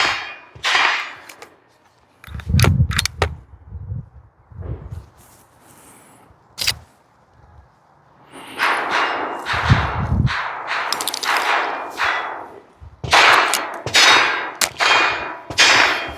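Sharp 12 gauge shotgun blasts from a Chiappa M6 survival gun fitted with an X-Caliber adapter ring out outdoors, several separate cracks spaced across the stretch, with quiet gaps between them and no talking.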